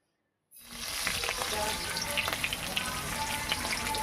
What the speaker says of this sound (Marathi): तेलात जिरे टाकून जिरे करून घेऊया. आपण त्यात हिरव्या मिरच्या टाकूया.